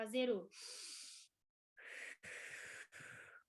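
Breathing exercise with forceful exhalations pushing air out of the lungs: a sharp gasp followed by several long, breathy exhales separated by short pauses, close and fairly loud.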